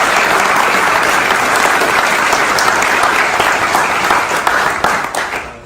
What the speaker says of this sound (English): So just clap it up for TC.